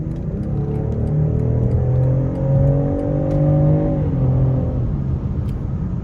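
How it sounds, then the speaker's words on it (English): A 2024 BMW X5 xDrive40i M Sport's inline-six engine pulls under acceleration, its rising drone climbing steadily through the gears with a smooth whir, then easing off into a low, constant cabin rumble. "it gets up to speed very quickly, as most BMWs do with this i6 engine"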